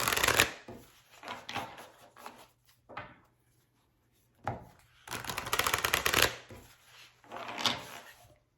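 Tarot cards are shuffled and riffled by hand in bursts of papery flutter and slapping, with short pauses between rounds, close up and fairly loud with no voices.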